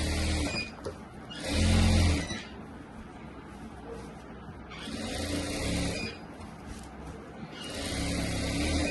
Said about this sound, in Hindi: इस प्रकार से अभी हम गले के ऊपर की सिलाई लगाएंगे।